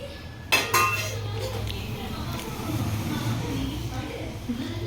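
Utensil stirring coriander into upma in a pan, with a couple of sharp metal clinks near the start followed by soft scraping and stirring close up, over a low background hum.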